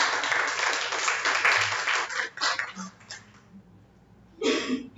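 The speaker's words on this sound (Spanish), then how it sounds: "Aplausos." Applause from an audience of educators at a panel discussion, dense clapping that fades out midway, followed by a short burst of clapping near the end.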